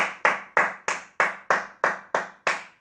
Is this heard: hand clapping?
yes